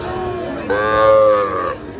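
A young heifer calf at a cattle market lets out a single drawn-out moo lasting about a second, loud and near, over a low hum of market background noise.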